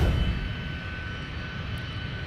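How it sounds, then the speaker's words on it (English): A Delta jet with Pratt & Whitney PW2000 engines taxis at an airport, the engines giving a loud, steady roar and whine that fades slightly after a strong start. "you can hear those Pratt & Whitney PW2000 engines in full symphony"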